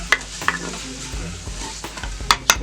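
Chicken sears in a pan on a high sear setting, a steady frying hiss with a few sharp clinks and scrapes of stirring scattered through it, close and moderately loud.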